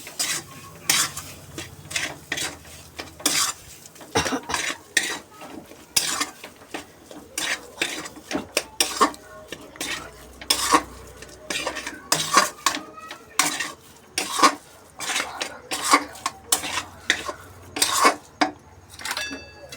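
A crushed cauliflower filling with salt is sautéed and stirred in a pan. Rapid, rhythmic utensil scrapes and clatters ring out close up over a low sizzle for the whole stretch.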